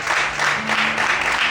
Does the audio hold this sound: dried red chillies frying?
no